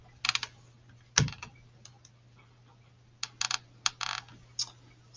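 Fingers press calculator keypad buttons to enter a polynomial, giving small sharp clicks in short clusters with pauses between them, close by, over a faint steady hum.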